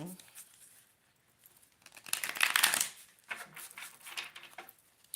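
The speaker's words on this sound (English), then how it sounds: "just keep shuffling these to get some type of bend in them" Brand new, stiff tarot cards shuffled by hand in quick papery bursts with soft crinkling flicks, close and fairly quiet, with brief pauses between runs.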